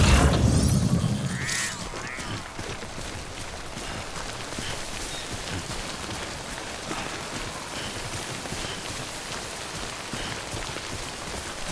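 Timefall rain pouring in the video game Death Stranding, a steady, dense patter of drops with a louder rushing swell at the start, continuing evenly throughout.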